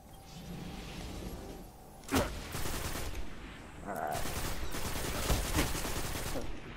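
Gunfire in a Destiny Trials of Osiris match: a sharp close shot, then a sustained rattle of rapid fire with a brief lull, the shooting carrying on to the end.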